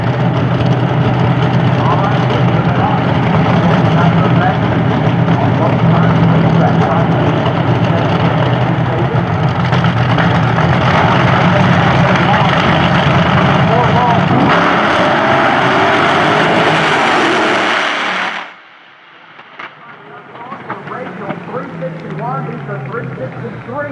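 Funny car drag racing engines roar loud and sustained at Eddyville Raceway Park, a dense blaring drone that cuts off abruptly near the end, leaving quieter ambient noise, with a commentator talking over it.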